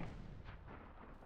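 A tank cannon fires in the real-time strategy video game WWA RTS, giving a loud, heavy boom whose rumbling blast fills the moment, with no speech.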